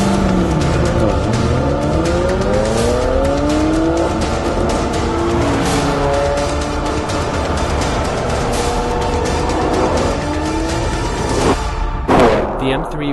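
Two BMWs, an M3 and a Dinan-tuned 335i, run a quarter-mile drag race at an airport strip, engines revving loud and close with rising gear-change sweeps and tire noise, a burst of wind or passing rush near the end.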